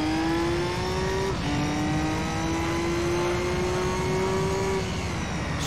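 A tuned 1000-horsepower Nissan Skyline R34 engine drones at high revs in Gran Turismo 3, holding a loud steady tone that drops once at a gear change and then climbs again. It sounds close and fills the whole stretch.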